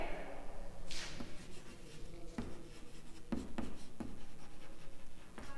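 Pen or chalk writing out a math derivation: scratchy strokes and taps in short bursts, fairly close, with a few sharper clicks as the marks land, under a quiet room hum.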